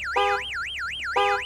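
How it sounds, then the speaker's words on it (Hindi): A car alarm blares in the Gas Station Simulator game, a loud, close warbling siren sweeping up and down with a repeated electronic chirp layered in, heard alone. "गाड़ी का अलार्म बज गया भाई"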